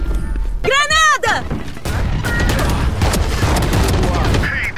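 A grenade goes off in the tactical shooter Valorant, a loud booming blast followed by a dense wash of gunfire and game effects, with players talking over the action.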